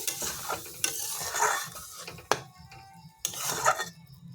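A spoon stirs vegetarian kakrol (spine gourd) curry in a pan with a little added water, giving close scraping strokes over a soft, steady sizzle, with a few sharp clinks against the pan.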